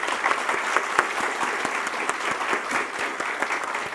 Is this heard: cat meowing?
no